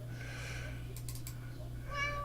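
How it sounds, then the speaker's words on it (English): A house cat asking to be let out gives a short meow, then a second meow about a second later, fairly close and clear over a steady low hum. "that's the cat wants to be let out"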